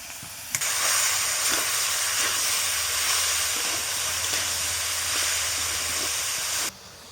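Cabbage hits potatoes frying in a pan, setting off a loud, steady sizzling hiss that holds for several seconds and then cuts off abruptly.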